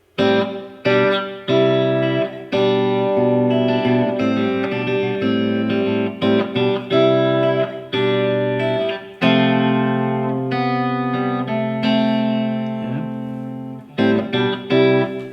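Distorted electric guitar plays the closing part of a riff, with sustained chords broken by short staccato gaps and ringing, effects-laden tone, loud and close.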